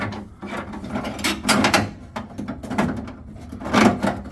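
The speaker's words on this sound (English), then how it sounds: "you could always tin snip the end off" Tin snips bite into a muffler clamp on a 1961 Citroen DS wagon, with several loud metallic crunches and clicks spaced irregularly, close up and without talk.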